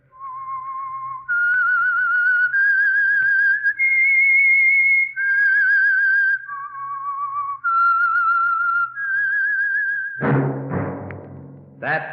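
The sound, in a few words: whistled theme tune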